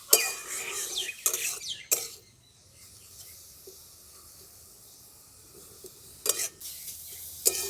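Grated carrot being stirred in a kadai to dry it, scraping and clattering strokes in short bursts with a quiet pause between, under light talk.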